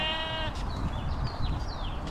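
Sheep grazing in a large flock on Communications Hill in San Jose, a clear bleat at the start followed by fainter overlapping cries from the flock over steady outdoor wind noise.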